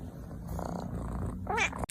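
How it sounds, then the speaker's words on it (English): Cat purring close by with a low continuous rumble, a brief higher cat vocal chirp near the end, no talk over it. "Where's that purring coming from?"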